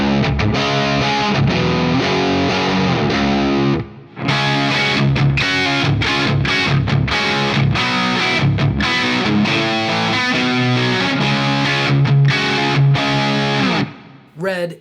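A heavily distorted electric guitar plays chunky riffs and sustained chords through the high-gain purple channel of a Soldano Astro-20 amp, loud and continuous, with a brief pause partway through.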